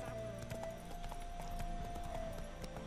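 Horse hooves clip-clop at a steady trot in the Witcher 3 video game, a continuous rhythmic clatter with a sustained game tone humming beneath.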